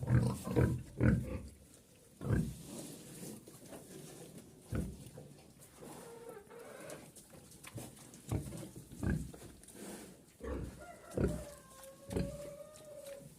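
A pig that has begun eating poorly grunts in short, irregular bursts close by, with pauses between, some scuffling, chickens foraging nearby and faint birds in the background.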